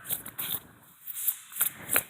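Deck of tarot cards being shuffled by hand, heard close up as several short riffling bursts with brief pauses between them.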